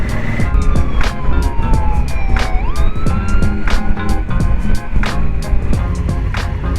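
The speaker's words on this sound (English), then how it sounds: "There's another police car behind." A police car siren wails on a road in Malaysia, its pitch sweeping up and down loudly over the rumble of a motorcycle and passing traffic, with brief clicks and knocks throughout.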